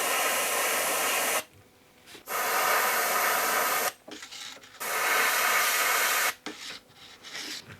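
Spray paint in metallic white hisses onto a four-part hinged swimbait lure in two long, steady bursts with a pause between them, followed by a few shorter, broken puffs, close and fairly loud.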